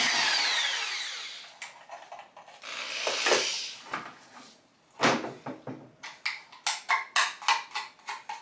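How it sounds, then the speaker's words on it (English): A power drill bores drainage holes in the bottoms of small plant cups on an old changing table used for potting, with short whirring bursts and a quick series of sharp rhythmic bites toward the end. "I just drilled 3 holes because these cups aren't very big on the bottom."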